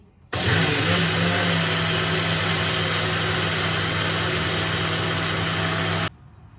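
A small electric mixer grinder grinds soaked rice, a loud, steady motor whine and whirr that starts abruptly, holds an even pitch for about six seconds, then cuts off.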